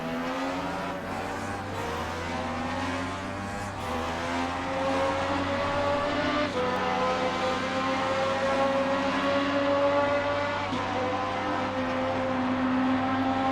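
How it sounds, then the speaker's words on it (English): A pack of race cars in the RaceRoom Racing Experience game roars together, several engines droning and layering at once, holding steady then rising louder toward the end, with no talk. "We're gonna hear a gaggle of cars behind him."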